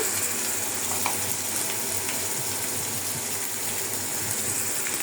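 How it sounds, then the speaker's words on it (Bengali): Onion, garlic paste and turmeric fry in hot oil for a fish-head curry with Malabar spinach and pointed gourd, giving a steady, close, unbroken sizzle with faint crackles throughout and no talking. "পেঁয়াজটা প্রায় হয়ে গেছে, আমি দিয়ে দিচ্ছি রসুন বাটা, হলুদের গুঁড়া"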